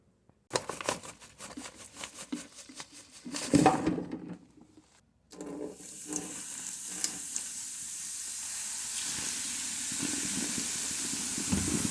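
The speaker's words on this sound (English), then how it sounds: "Clean your garbage disposal. Use some baking soda and just regular vinegar." Baking soda and regular vinegar fizz and hiss in a kitchen garbage disposal, a steady close sizzling that follows a burst of rattling and clatter, with no talk.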